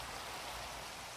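Steady rain falls in the Minecraft video game, a soft, even hiss of drops that continues unbroken with no voices over it.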